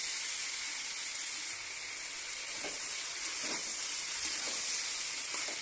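Purul (pointed gourd) and spices sizzle steadily in a hot pan while being stir-fried, a continuous close hiss with a few soft scraping stirs and no talking.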